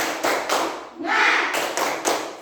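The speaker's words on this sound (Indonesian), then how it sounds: "Tepuk semangat." A classroom of children performs the rhythmic tepuk semangat clapping chant, a short patterned burst of hand claps with a pause in the middle, led by a pupil, with young voices mixed in.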